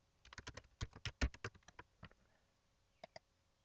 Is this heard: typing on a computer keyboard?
yes